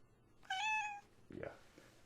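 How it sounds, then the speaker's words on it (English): A cat meows once, a clear drawn-out tonal call close by, followed by a shorter chirping trill and some soft noise in a quiet room. "We're just all full of cats today."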